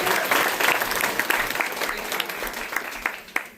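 Audience at a storytelling event applauds a first-time storyteller, a full round of clapping that swells early and gradually thins out toward the end.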